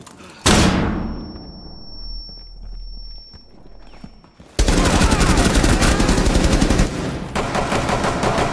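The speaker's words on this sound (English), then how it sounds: "Dropping flashbang!" Flashbang grenade going off in Rainbow Six Siege: a sharp loud burst with a long ringing tone, followed by a dense rattle of rapid gunfire close by.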